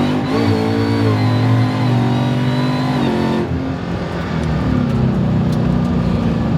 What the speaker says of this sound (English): you get the blower whine, you get the loud exhaust of a Mustang